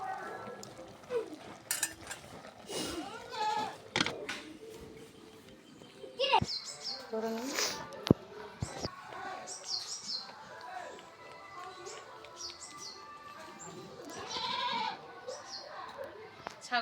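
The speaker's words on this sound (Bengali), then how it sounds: "ছাগলের বাচ্চা দেখুন বন্ধুরা" Newborn goat kids, about six days old, bleat in short cries amid kitchen clatter of pots and utensils, with a person talking nearby.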